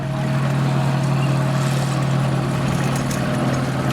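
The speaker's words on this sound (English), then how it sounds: "coming past our post now is a Sherman tank" A Sherman tank with a radial engine drives past at a wartime show, giving a steady loud engine drone with a strong low hum that holds even throughout.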